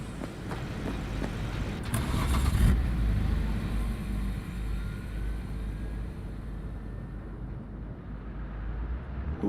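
A car engine hums steadily while driving in the Cyberpunk 2077 video game, with a low rumble that swells briefly as it accelerates, then settles into a continuous drone.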